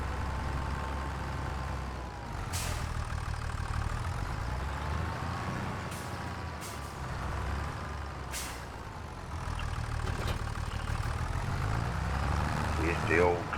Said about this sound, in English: See if the old tractor can do it.